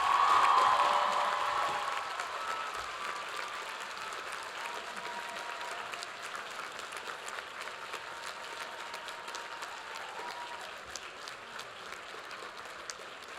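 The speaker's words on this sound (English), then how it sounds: "I invite the seniors to rise, turn, and applaud their family and friends" Graduating seniors at an undergraduate commencement ceremony applaud their family and friends, a broad roomful of clapping that swells loudest at the start, then settles into a steady, even patter.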